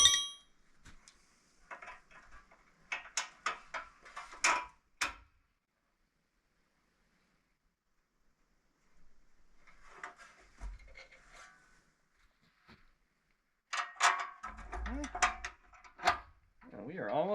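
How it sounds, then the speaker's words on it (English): A part is bolted onto a mobile dimension sawmill being converted to a large edger blade, giving scattered metallic clinks, scrapes and tool rattles in short bursts between quiet pauses, close by. "this piece can now bolt on right here"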